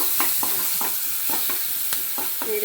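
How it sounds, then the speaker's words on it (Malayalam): Green chilies fry in hot oil, giving a dense close sizzle with a string of short scraping stirs and clinks, steady and fairly loud, with no voices. "എണ്ണ ചൂടായി കഴിയുമ്പോൾ ആദ്യം നമുക്ക് ഈ പച്ചമുളക് ചാച്ച് വെച്ചിട്ട്"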